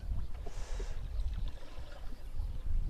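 A boat on water being turned around by its driver, heard from the bow as a continuous low motor rumble mixed with water rush and wind buffeting, steady and close.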